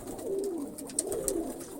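Yellow-eyed breed pigeons give soft, rolling coos close by, a low murmuring call repeated twice against faint outdoor ambience.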